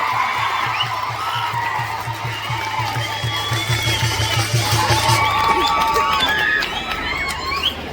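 A large crowd at an outdoor political rally in Mahuva roars with cheering and whistles over a steady, rhythmic low thumping, loud and continuous throughout.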